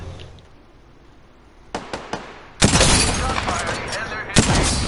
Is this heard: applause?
no